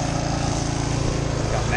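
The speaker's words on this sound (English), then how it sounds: "We got Billy mowing the grass in the back, in the front." A Scag commercial lawn mower cuts grass during yard work, its engine a steady, loud drone that runs through the whole stretch beneath someone talking.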